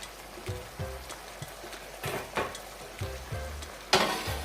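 Fish added to a frying pan of vegetables for Jamaican steam fish with okra, a quiet sizzle broken by soft repeated knocks and scrapes of a utensil against the pan.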